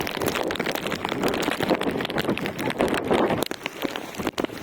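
Heavy rain pours down beside the Buriganga river, a dense, steady hiss of drops beating on surfaces that stays loud and continuous throughout, with no talking.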